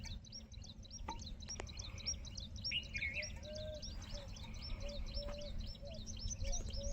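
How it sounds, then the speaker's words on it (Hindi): Birds chirp and sing at Udairamsar during a light monsoon shower: repeated quick tweets and short whistled calls come from several directions at moderate distance over a low background rumble. "पक्षियों की आवाज़ सुने।"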